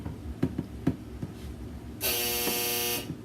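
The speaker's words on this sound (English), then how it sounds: "That was the dryer." A clothes dryer buzzer gives a single harsh, sustained buzz for about a second, loud and near, after some scattered knocks and clatter.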